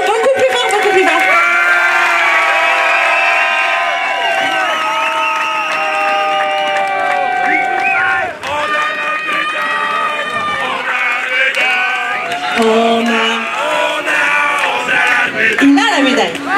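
At a French snowboard championship ceremony, a large crowd roars louder for a medal winner, with sustained cheering, whoops and shouting over applause that stays loud and dense, dipping briefly midway before surging again.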